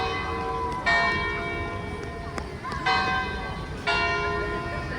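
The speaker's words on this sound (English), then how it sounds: "So you get to hear the bells" Church bells ringing near Paris City Hall on a wide esplanade, several bright, resonant strikes, each decaying slowly, heard at moderate distance over faint outdoor background.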